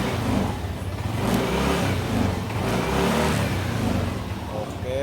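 A Yamaha NMAX scooter with a downgraded ABS module starts in a workshop and revs, a steady mid-pitched engine drone that rises and falls in pitch under a voice talking.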